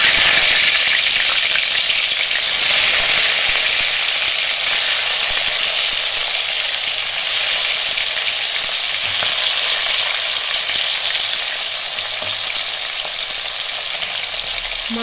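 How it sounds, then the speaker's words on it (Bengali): Fish frying in hot oil for a Bengali-style bhola fish curry, a loud, steady sizzle with crackling that runs without a break, and no voices. "এটা গরম হয়ে গেছে, আমি এবার মাছগুলো ভেজে নেব।"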